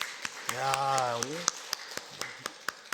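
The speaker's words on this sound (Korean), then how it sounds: "우리 박수 한번 하겠습니다" Church congregation clapping along in a Korean worship service, a steady run of evenly spaced claps that comes through under someone speaking.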